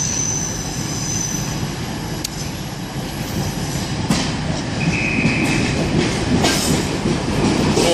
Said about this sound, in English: Coach train coming in now, going to Payton.